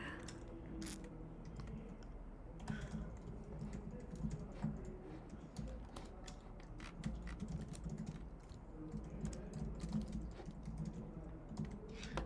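Continuous computer keyboard typing, quick irregular key clicks close to the microphone running throughout without pause and with no talking.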